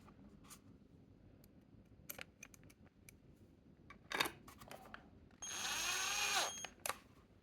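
A 34mm horn magnet tweeter being tightened by hand, giving scattered small clicks and scrapes, then a brief rasping burst of screwing or ratcheting near the end, close and quiet.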